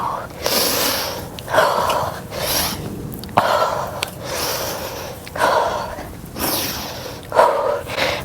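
Heavy, rhythmic breathing with sharp exhales repeats every second or so, close to the listener, during push-ups in a HIIT workout.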